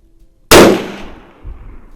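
A single sharp, loud rifle shot from a Savage Model 93 in 17 HMR, a sudden crack with a decaying echo and a faint thump after it, no voices.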